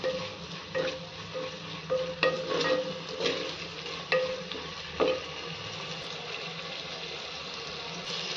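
Ginger garlic paste stirred and fried in a pan, a soft steady sizzle with repeated scraping strokes and light clinks of a spoon against metal, fairly quiet and close, no voices.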